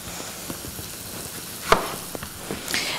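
Onions browning in a hot pan, a steady close sizzle and hiss with occasional sharper pops and stirring clicks, one louder crackle standing out partway through.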